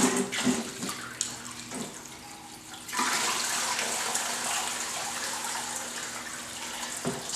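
Water rushes steadily through a Bazooka Gold Trap sluice during gold prospecting, a continuous broadband wash that swells noticeably louder partway through and keeps flowing without voices.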